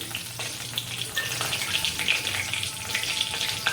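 Bay leaves and whole cumin fry in hot oil, giving a close, busy crackling sizzle with scattered pops and a faint low hum underneath, no talking.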